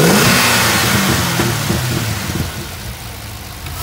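A Chevy SS sedan's V8 engine, sound tube deleted, revs up in a close, loud roar and then winds down toward idle.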